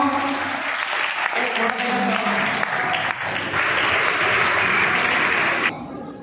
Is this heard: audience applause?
yes